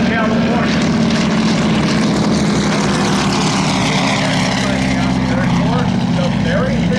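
T-6 Texan propeller trainer departing at the Oshkosh 2013 airshow, a loud continuous radial-engine drone that stays close and steady under an announcer's talk.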